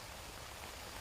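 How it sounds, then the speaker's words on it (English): Steady heavy rain drumming on a tent, a dense continuous patter with no voices. "It is absolutely pouring down outside."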